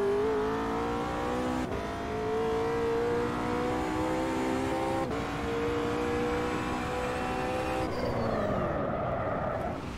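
A race car in the Automobilista 2 video game revs hard with a high engine whine, lifts off and spins out in lift-off oversteer, the pitch dropping and wavering as the car rotates, loud and continuous with no talk.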